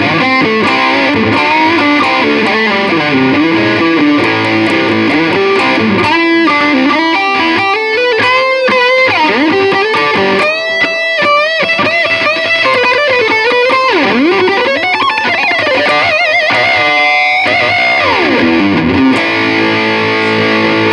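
Loud, driven electric guitar played continuously with a wooden pick, busy picked and strummed notes with bends and slides, gritty distorted tone throughout with no talking.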